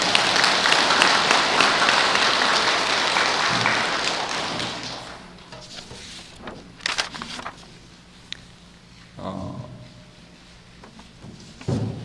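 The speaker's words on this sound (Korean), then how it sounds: "찬탄의 박수 한번 부탁드리겠습니다" A congregation at a Sunday Buddhist dharma service claps together, with loud sustained applause for the first few seconds that fades into scattered thumps, taps and a few last claps.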